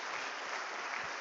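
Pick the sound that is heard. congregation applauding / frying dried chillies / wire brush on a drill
congregation applauding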